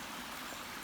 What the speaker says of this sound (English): it's got a little creek running in the back where you can sit out here